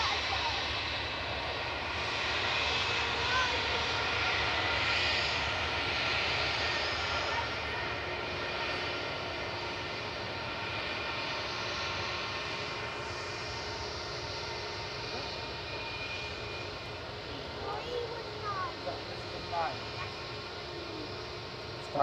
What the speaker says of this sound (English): A319-100 heading down to London Heathrow with flight 1389.